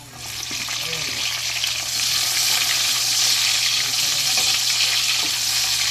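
Onions hit a hot pan of oil for a vegetable sauté, setting off a loud, dense, continuous sizzle that swells after the first second and holds steady, close up.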